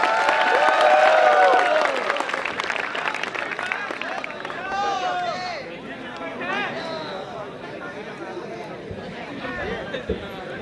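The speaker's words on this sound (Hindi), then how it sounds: "एक बार घनघोर तालियों के साथ आवाज दीजिए" Audience at a college fest inauguration and comedy night bursts into loud applause with cheering and crowd chatter, strongest at the start and then easing into a steady clapping wash.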